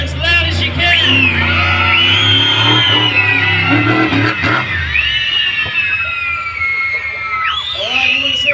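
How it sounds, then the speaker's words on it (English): A crowd at a monster truck show in Mackay screams and whoops loudly in a sustained roar, with individual high-pitched shrieks rising above the mass and voices swelling and dipping over several seconds. "scream as loud as you can"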